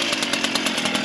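A chainsaw buzzes loudly and close, its pitch pulsing rapidly as it runs, cutting firewood in the mountain village of Ushguli, Georgia.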